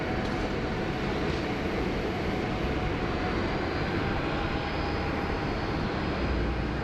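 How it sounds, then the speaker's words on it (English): Qantas Boeing 737-800 at Sydney Airport near the runway 16 right holding point, a distant, steady jet engine rumble and broadband roar, faint and continuous with no talk. "We've got a Qantas 737-800 at the Foxtrot holding point there for 16 right, just about to line up on the runway"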